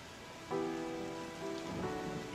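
Light, steady rain with a soft hiss that swells in at about half a second and continues throughout, overlaid by sustained tonal, music-like sounds. No voices are present.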